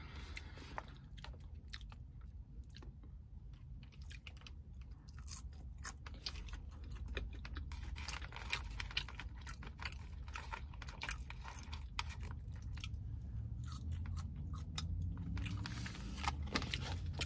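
Close, quiet crunching and chewing of Taco Bell Nacho Fries BellGrande, eaten in a car, with soft irregular bites and mouth sounds continuing throughout and no talking.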